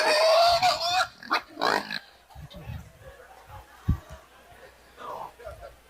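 Pigs grunt and oink in short, rough bursts, loud at first and then softer and scattered, while people talk at the same time.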